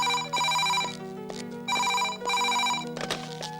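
A telephone rings in two long electronic bursts separated by a short gap, loud and close, with a faint tone underneath and no talk.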